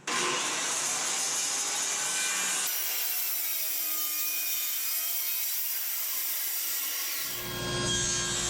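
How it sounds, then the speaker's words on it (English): A circular saw rips through wood along a Bora track guide, a loud continuous whining cut heard up close with no talk, its tone dropping slightly midway before the blade spins down at the end. "I got my circular saw all dialed in. I'm ready to make my first cut."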